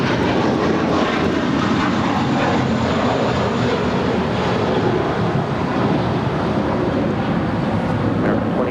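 A Boeing 737 airliner lands on runway 25 Left at LAX, heard as a loud, steady, broadband roar that holds for the whole stretch with no voices.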